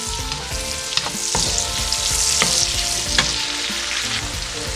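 Onion and garlic sauté in a pan with a bright, steady sizzle, punctuated by several sharp utensil scrapes and stirring knocks, close and loud with no voices.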